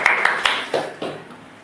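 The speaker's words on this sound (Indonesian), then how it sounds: "Tepuk tangan dong." A small podcast studio audience claps briefly, a handful of sharp hand claps in the first half-second, then a softer, thinning patter that fades out.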